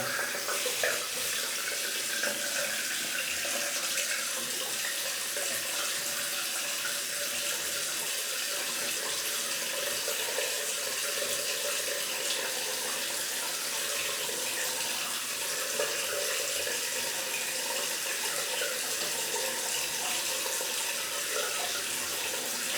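Cold water runs from a tap in a bathroom during a shave, a steady, loud, close hiss of flowing water that continues unbroken throughout.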